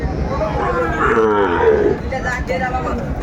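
A Sahiwal bull calf moos with a drawn-out low call in the middle, rising over steady background chatter and voices at a cattle sale.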